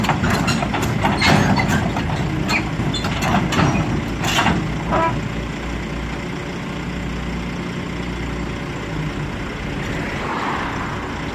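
A Kobelco SK200-6 excavator's diesel engine idles steadily as it is driven up onto a trailer, a low continuous rumble with some clanking and clatter early on, fairly near and unbroken by talk.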